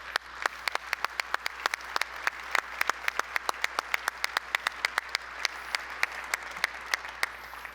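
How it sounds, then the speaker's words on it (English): A conference audience at a general session applauds award winners: steady, crisp clapping from many hands that holds evenly for several seconds, with no talking over it. "Let's give all these winners a big round of applause."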